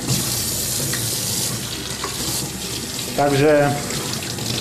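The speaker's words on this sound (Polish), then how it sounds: "ja pierwszy raz ją płukam pod wodą" Mareld Shiny 5000 RE APP work lamp held under a running kitchen tap, a steady close hiss of splashing water with a brief louder gurgle near the end and a short spoken word over it.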